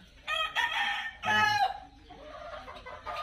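A gamefowl rooster on a breeding farm crows twice, loud and close, one long call after another, followed by softer clucking from other fowl.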